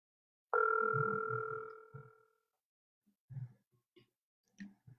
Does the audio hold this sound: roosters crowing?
no